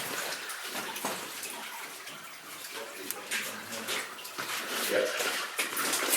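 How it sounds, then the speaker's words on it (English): Water rushes and splashes continuously at moderate volume as it drains out in a mine, a busy churning flow with occasional gurgles, heard nearby without talk. "That's the water draining out here."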